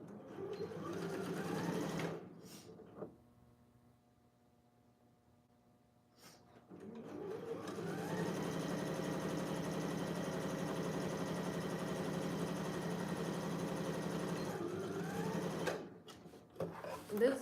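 A sewing machine stitches a corset dress in two runs, a short burst, a quiet pause with a faint hum, then a longer steady mechanical whir that speeds up and stops near the end.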